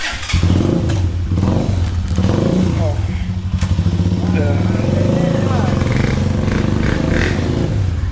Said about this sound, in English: We're about to jump on these motorcycles. All right, we are headed out.